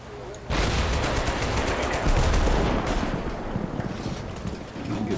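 Continuous gunfire in the combat video game Total Conflict: Resistance, a dense, loud rattle of shots starting abruptly and running with rapid repeated bursts.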